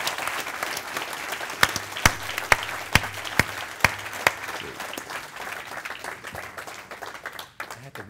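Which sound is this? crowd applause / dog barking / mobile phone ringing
crowd applause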